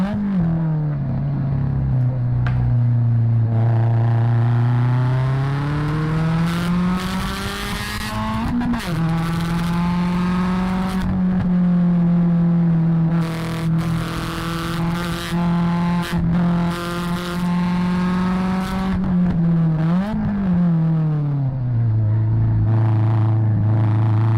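A race car laps High Plains Raceway in a loud, continuous close engine drone that rises and falls through gear changes and corners, with brief dips as it shifts, and no talk over it.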